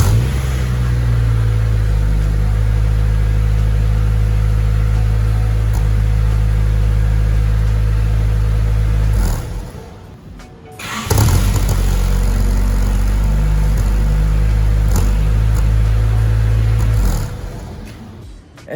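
A Honda Civic EG engine with an idling issue idles loudly with a steady low rumble that drops out briefly midway, then returns, the pitch wavering slightly as if running rough.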